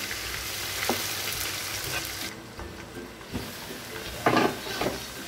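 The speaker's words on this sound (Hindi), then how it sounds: "इसको तकरीबन 5 मिनट में और फ्राई कर लूँगी तेज़ आंच पे" Chicken tikka frying over high heat in a karahi, giving a steady hiss of hot oil with occasional stirring scrapes and a brief louder burst of sizzle near the end.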